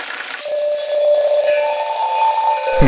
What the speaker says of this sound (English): upgrade to one of these ridiculous buggy motors? I think these things run at over 2000 RPM.